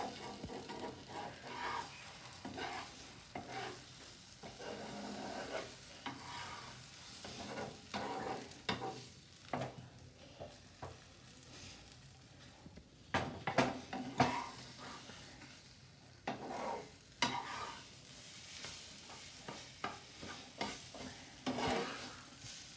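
Egg being stirred and scrambled in a hot pan for egg fried rice, a quiet sizzle under repeated scraping and stirring strokes of a utensil.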